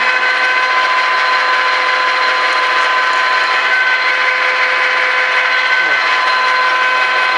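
A disc milling cutter runs under power feed, giving a loud, steady mechanical whine with a constant tonal hum and no pauses.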